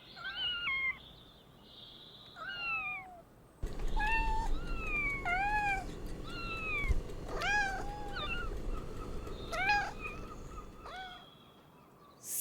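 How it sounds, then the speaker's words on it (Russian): A house cat meows repeatedly, close and clear, about eight separate drawn-out calls spread across the stretch, some rising and falling in pitch, over a faint background hum. "кошка."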